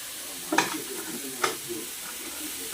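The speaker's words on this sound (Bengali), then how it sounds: "এবার ভালো করে নেড়ে চেড়ে নিচ্ছি।" Bottle gourd pieces for a moong dal lau ghonto being stirred in a hot pan, with a low steady sizzle and a few distinct scraping strokes spaced about a second apart, close and moderate in volume.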